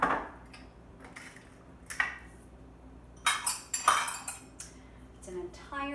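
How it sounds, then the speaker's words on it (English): Brown sugar scooped and tipped from a half-cup measuring cup into a bowl of oatmeal raisin cookie dough, with several light scrapes and clinks of cup against bowl, quiet and close, mostly in the second half. "Okay, then to that, I am adding the brown sugar."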